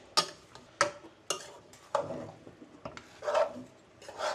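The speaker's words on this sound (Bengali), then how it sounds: "চুলা ধরানোর আগেই একটু মেশাই নিচ্ছি যদিও ভালোভাবে মিশবে না জাল দেওয়ার পরেই মিশবে" Ingredients for beef bhuna khichuri are stirred with oil in a pot before the stove is lit, giving several scraping, rubbing strokes of a spoon against the pot at an uneven pace, close and fairly quiet.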